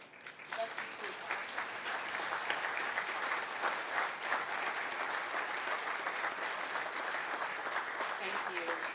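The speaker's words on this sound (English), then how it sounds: "so we can give you a round of applause" Sustained applause fills a ceremony hall, a dense, even clatter of many hands clapping for about nine seconds with no break.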